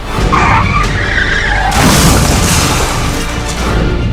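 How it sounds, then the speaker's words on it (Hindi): A container truck slams into vehicles on a road, with loud skidding, crunching impacts and a heavy boom, all harsh and close throughout. "पीछे से आए कंटेनर ट्रक ने इतनी जोर से टक्कर मारी कि वहां खड़े बाइक सवार का नामो निशान ही मिट गया"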